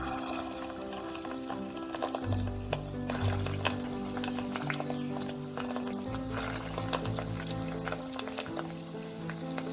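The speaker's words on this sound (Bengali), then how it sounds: "বেশ কিছুটা সাদা তেল গরম করে নিয়েছি। এবার এতে আমি ছোট ছোট করে মাছের ডিমগুলো ছেড়ে দেবো।" Small pieces of fish roe pakora batter go into hot white oil and deep-fry, making a continuous close bubbling sizzle with occasional splashes and no talking.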